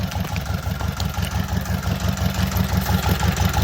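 A 1970s farm tractor engine idles after getting warm, a steady low chugging rumble with a fast even pulse, close and continuous with no voices over it.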